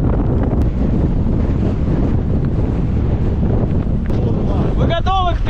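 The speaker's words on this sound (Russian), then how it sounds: "Ветер вообще просто невероятный какой-то." Strong mountain wind near a pass on a buggy route between Dagestan and Chechnya buffets the microphone in a loud, steady roar throughout, with a brief whistling squeal near the end.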